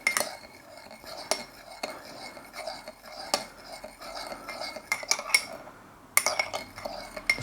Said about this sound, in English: Give it all a bit of a stir